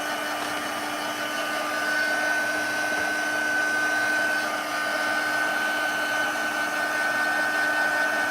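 A hair dryer blows steadily to dry wet paint, a loud, continuous whirring hum with a faint whine that holds without a break for several seconds, with no voices.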